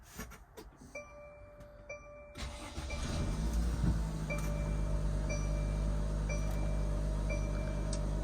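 A Pleasure-Way Rekon camper van engine cranks and fires up, settling into a steady, close idle after a few dashboard chimes.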